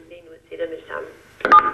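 A telephone module on a wrist-worn personal alarm dials out to an emergency care centre, a quick burst of dialing tones closing the short clip after muffled, speech-like sounds.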